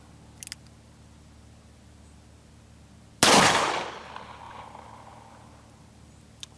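A single loud, close Smith & Wesson 686 Plus .357 Magnum revolver shot firing a 158 grain +P load, with a sharp crack and a ringing decay that fades over about two seconds, alone in an otherwise quiet setting.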